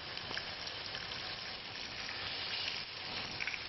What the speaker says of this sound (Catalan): Ara començam a fregir les aubergínies de la banda de la popa enfarinades.